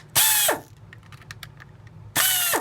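A power screwdriver whirs in two short bursts as it backs Torx 8 screws out of a Dyson V6 vacuum cyclone, separated by quiet clicks of handling, close and fairly loud.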